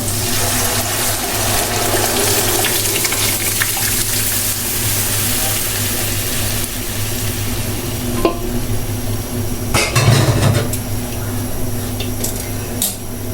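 Thick cooked chana dal is poured from a pot, giving a continuous wet gushing and sloshing with a few louder knocks near the end, set against steady kitchen background noise.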